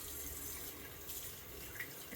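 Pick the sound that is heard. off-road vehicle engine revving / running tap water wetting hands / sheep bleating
running tap water wetting hands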